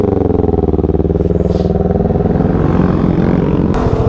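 Yamaha R15M sport motorcycle with its stock exhaust pipe, engine running with a steady, loud close-up drone and fine rhythmic pulsing that holds throughout without any talk.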